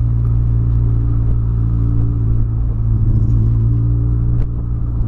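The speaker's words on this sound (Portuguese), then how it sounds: "Olha, ele tá com umas falhinhas ainda, vocês perceberam, ó. Ó, na marcha lenta, ó." A car engine idles roughly with small misfires, a steady low rumble with slight irregular stumbles running close and loud throughout, with no talk.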